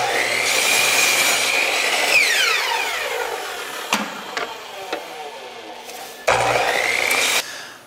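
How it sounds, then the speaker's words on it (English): A chop saw cutting through wood pieces: a loud, close whine that rises as the blade bites, then winds down, followed by clunks of handling and a second short cut with its spin-down, no talking. "now take them to the chop saw and cut them both off on the X side of the line"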